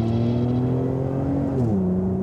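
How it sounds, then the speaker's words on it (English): A used Volvo 850 car engine with an aftermarket exhaust fitted hums steadily, then drops in pitch as the revs fall near the end, heard close and without talking. "The other thing is the noise. You can tell this has definitely got a different exhaust fitted"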